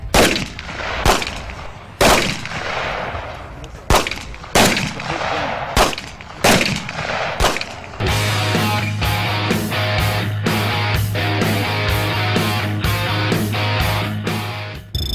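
Sharp, loud gunshots from an AR-15 rifle during a beginner's shooting lesson, fired one at a time at irregular intervals before a rapid string of closely spaced shots over a steady low hum.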